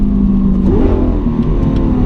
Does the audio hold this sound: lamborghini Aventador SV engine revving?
yes